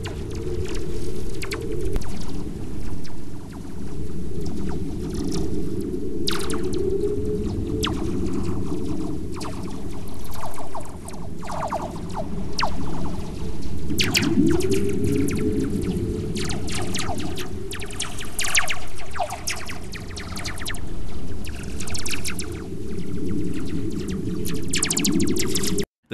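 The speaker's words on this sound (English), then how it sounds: "This dramatic falling pitch signal is known as a terrestrial whistler." A terrestrial whistler from lightning, captured in a space radio recording, sounds as gliding falling-pitch tones that sweep down twice through a constant crackling, hissing static.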